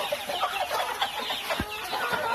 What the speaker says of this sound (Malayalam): ഇതിൽ എല്ലാ കോഴികളും ഉണ്ട് കരിങ്കോഴി കുഞ്ഞുങ്ങളും എല്ലാം ഉണ്ട്